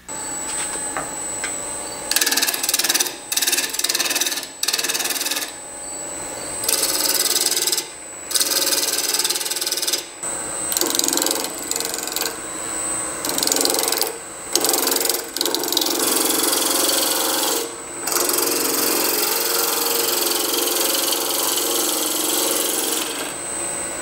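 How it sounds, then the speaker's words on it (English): Wood spindle turning on a lathe with a gouge, cross-grain stock for a meat tenderizer, a steady loud scraping and cutting hiss with a motor whine, broken by brief pauses as the tool lifts off. "So I'm gonna find a gouge and use that to begin with."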